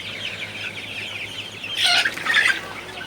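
Chickens in a hot poultry shed, gathered in front of a fan, give short clucks and squawks that swell in a brief burst near the end over a steady low fan hum.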